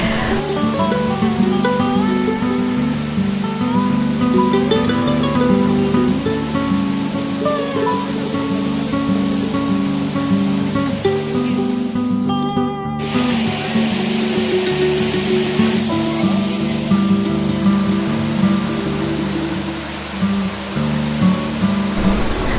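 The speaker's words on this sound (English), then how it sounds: "the sparkling white water of the falls could be seen falling continuously" Honnammana (Manikyadhara) waterfall in Chikmagalur pours in a loud, steady rush, heard under continuous music that briefly cuts out and resumes partway through.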